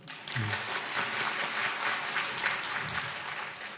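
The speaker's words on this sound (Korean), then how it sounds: "박수 한번 칠까요?" Audience applause during a church sermon, a congregation clapping together in a steady, even burst that lasts several seconds without pause, fairly close and with no speech over it.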